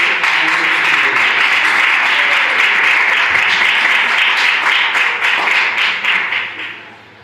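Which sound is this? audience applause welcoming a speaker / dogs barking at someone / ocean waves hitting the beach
audience applause welcoming a speaker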